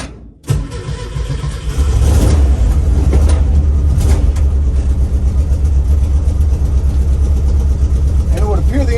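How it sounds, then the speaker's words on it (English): Car engine starting and running after a fuse box swap, a loud crank catching into a steady, rumbling idle that continues close by. "find out if I'm brave enough to drive this car that I just swapped out the fuse box"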